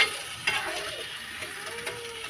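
Hot fried jangri drop into sugar syrup and are stirred, giving a soft sizzle with light scraping and clinks from the pan, close by and without talk.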